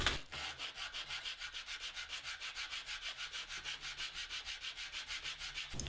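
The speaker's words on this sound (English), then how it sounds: "I'll just put a piece of sandpaper down on the bed here and sand them flat" Wooden ornament pieces rubbed flat against a sheet of sandpaper laid on a bed, a steady back-and-forth rasping stroke repeated rhythmically about five times a second, close and even throughout.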